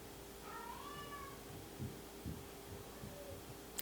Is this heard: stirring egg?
no